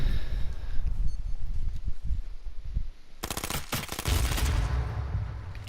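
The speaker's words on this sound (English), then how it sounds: "unload all my bullets on the characters or on the other players" Rapid automatic gunfire in the survival shooter video game H1Z1, a fast rattling burst of close shots over steady outdoor wind and rustle, with no talk.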